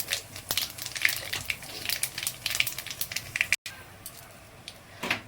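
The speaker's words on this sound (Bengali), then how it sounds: "কালো জিরেগুলো ভালোভাবে ভাজা ভাজা মতন একটু" Black cumin seeds temper in extra hot oil for a potato curry. Close, crackling sizzle with scattered sharp pops runs throughout, briefly cutting out for a moment near the end.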